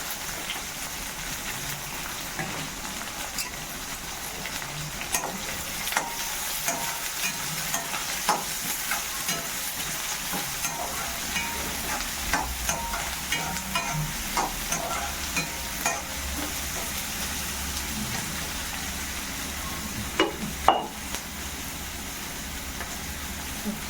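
Mustard seeds and onion fry in a pan, giving a steady close sizzle with scattered crackles and pops over about twenty-four seconds, plus occasional stirring scrapes. No one speaks.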